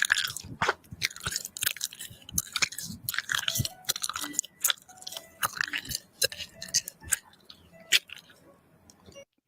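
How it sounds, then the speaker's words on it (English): Bubble gum is chewed up close in ASMR style, a run of wet clicking, smacking bites in an irregular rhythm, loud and intimate, with no talking. "It's not as calming as I would have expected, that chewing bubble gum."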